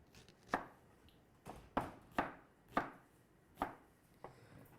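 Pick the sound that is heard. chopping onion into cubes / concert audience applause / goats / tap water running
chopping onion into cubes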